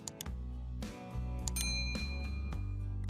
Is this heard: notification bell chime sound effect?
yes